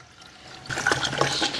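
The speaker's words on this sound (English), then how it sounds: "you'll just fill the rest of your sprayer up to your desired amount of water." Tap water rushes into a garden pump sprayer tank in a steady, close gush that builds after a quiet start and keeps running to the end.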